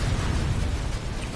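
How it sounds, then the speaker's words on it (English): Explosions rumble in the online shooter game Planetside 2 during a battle, a dense, loud, continuous low roar of blasts with no talk. "Lots of explosions happening."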